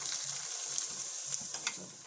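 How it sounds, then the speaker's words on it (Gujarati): Wheat flour papad fries in hot oil, giving a dense, steady crackling sizzle heard up close, with faint low voice murmurs in the background. "તો આપણે આ 2 પાપડ તળી લેવું"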